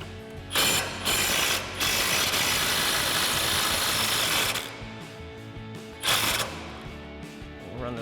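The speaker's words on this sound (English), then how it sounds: "we've got our 21 mil socket and 21 mil wrench to remove the lower bolt" A 21 mm socket on a ratchet and a 21 mm wrench work the lower mounting bolt of a leveling kit on a 2020-2026 Chevrolet Silverado 2500, with loud bursts of fast ratchet clicking broken by short pauses, close up.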